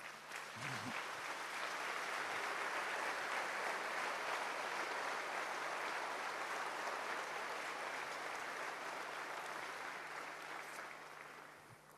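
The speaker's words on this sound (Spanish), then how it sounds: "Den un aplauso al Señor." Sustained applause from a church congregation at a Spanish-language sermon, steady dense clapping that swells quickly, holds loud for about ten seconds, then slowly tapers away, with no voices over it.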